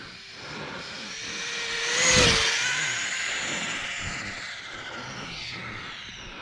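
An engine on an RLAARLO AK 917 revs in a quick, rising rip that peaks and then fades. It sounds moderately distant, with no speech.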